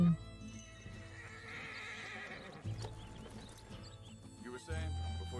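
A horse whinnies in Red Dead Redemption 2, the neigh rising clearly near the start over game music and hoof clops, with talking heard across the scene.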